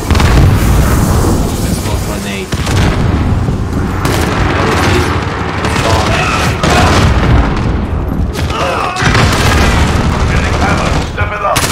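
Heavy booms and blasts amid ongoing gunfire in a Modern Warfare team deathmatch, loud and dense with repeated explosive impacts and rattling shots, voices faintly mixed in.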